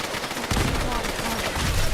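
Rapid automatic gunfire in a Fallout game gunfight, dense overlapping shots cracking close and loud with a heavier burst midway, continuous for the whole stretch.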